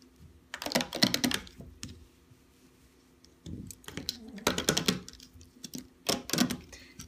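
Rainbow Loom band bracelet shaken back and forth, giving bursts of dense rattling clicks in several separate rounds with quiet gaps between them, close and fairly loud.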